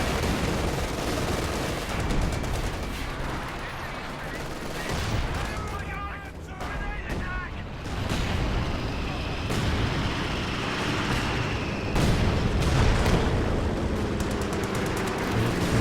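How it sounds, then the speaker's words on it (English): In the WWII strategy game Company of Heroes 2, an artillery barrage in a 2v2 match sets off dense, continuous booms and crackling gunfire with no pause for the whole span. Speech from the match caster blends in beneath the din. "Just barraging."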